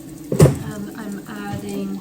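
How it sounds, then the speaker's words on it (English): Water is poured into a pizza dough mixture in a home kitchen: a short splashing pour near the start, then a quieter trickle and soft handling sounds. "Then I'm adding water."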